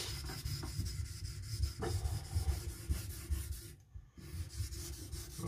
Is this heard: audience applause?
no